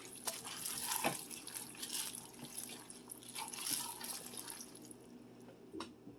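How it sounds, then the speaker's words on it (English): Milk poured around the rim of a crock pot for a tuna noodle casserole, a steady soft liquid trickle heard close up, with no talking. "I'm going to add the milk around the rim of the crock pot."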